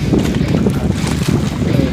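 Steady wind roaring over open water, with a constant low rumble and broadband rush throughout, fairly loud and close to the microphone.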